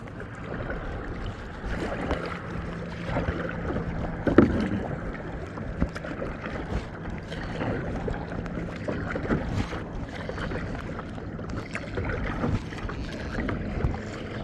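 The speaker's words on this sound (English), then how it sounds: "Today I get to be out on the lake and paddle my kayak" A kayak is paddled across a lake, with soft rhythmic paddle splashes and water swishes against steady wind noise on the microphone, close and fairly quiet, no talking.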